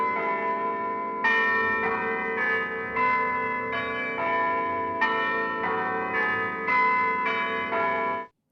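Church bell chimes from a Mellotron tape sample ring in a steady sequence of struck tones, each strike blooming and overlapping the last, alone and fairly loud before cutting off abruptly.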